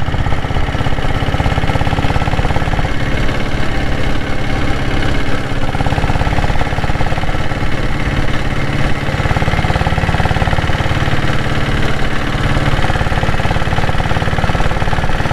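A Royal Enfield Diesel Bullet motorcycle engine runs steadily while the bike is ridden at moderate speed, giving a loud, continuous low throbbing drone with no pauses and no talking.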